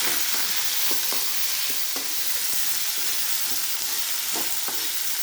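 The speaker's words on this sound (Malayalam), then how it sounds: "പച്ചമുളക് ഇളക്കി" Green chillies frying in a pan for broken wheat upma, with a steady loud sizzle and irregular scraping stirs of a spoon against the metal.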